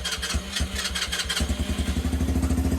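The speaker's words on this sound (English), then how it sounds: "it will not let me rev it. It'll just bog out, as so." A Lexmoto motorcycle on choke is revved and bogs out, its engine sputtering unevenly before settling into a rapid, lumpy chug, close and moderately loud.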